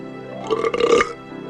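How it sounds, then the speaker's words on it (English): A loud cartoon dragon burp in a children's story, one drawn-out belch swelling over about half a second and then fading, heard alone without talk. "He even burped loudly when he finished."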